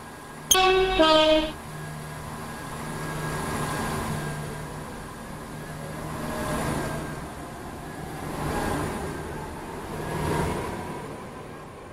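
A four-coach train in the video game SCR rumbles past at Beechley after a short harmonic horn blast, its steady roar rising and falling in waves for the rest of the clip, with no talk.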